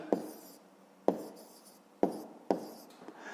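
Handwriting on paper while an answer to a fifth-grade math problem is written down: four distinct taps or strokes spaced about a second apart, each followed by soft scratching, close and quiet.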